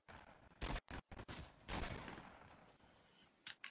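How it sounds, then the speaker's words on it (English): Minigun fire in the Fortnite battle royale game comes as a few sharp, separated bursts, followed by a fading tail and two quick final shots. "When I landed, he just started shooting me. A minigun."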